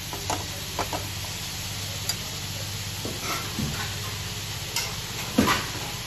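Egg and dried shrimp curry being stirred in a pan, with soft scraping strokes and a few sharper clinks over a steady low sizzle, close and moderately quiet.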